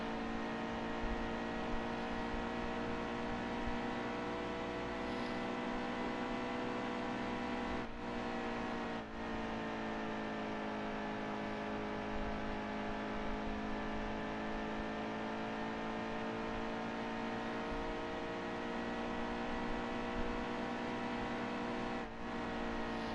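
Race car engine from the NASCAR Heat 2 video game during an Xfinity Series qualifying lap, a steady high-pitched droning whine held at near-constant revs for over twenty seconds, loud and continuous with no talking.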